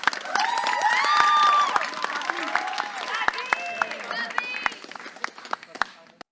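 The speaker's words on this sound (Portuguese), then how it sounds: "Palmas para Gabriele, gente" An audience at a poetry event claps and cheers, the applause loudest early and then thinning into scattered claps, with voices and whoops mixed in.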